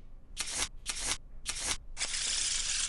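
Playing cards shuffled at a baccarat table: three quick riffle bursts followed by a longer, steady cascade of cards, close and crisp with no talking.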